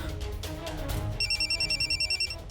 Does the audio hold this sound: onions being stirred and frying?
no